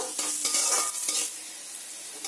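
Bright, close sizzling of lightly salted onions frying in a pan, with a few stirring scrapes early on before the hiss settles.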